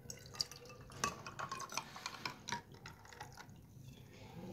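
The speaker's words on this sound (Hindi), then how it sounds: "अब चम्मच के साथ हम इसे अच्छे से मिक्स कर लेंगे।" A spoon stirs a gond katira drink already mixed with sugar water, making light clinks and swishing liquid sounds in short bursts, close and fairly quiet.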